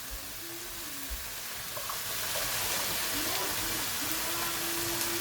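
Wattie's pasta sauce and mince sizzle in a hot pan, a steady bright frying hiss that swells slightly louder partway through, with faint stirring and a thin tone underneath.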